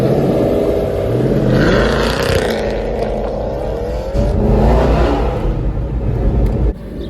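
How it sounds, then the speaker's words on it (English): A powerful Aston Martin Vantage GT8 V8 engine revs and roars nearby, its pitch climbing and falling through repeated surges of acceleration, loud and throaty throughout. "that is a car that likes to scream"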